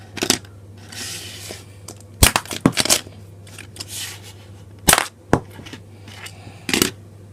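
Cross Fight B-Daman CB-15 Stroke Orochi toy rapid-firing marbles, sharp plastic clicks and clacks in short bursts and clusters, close and crisp, with quiet rattling between.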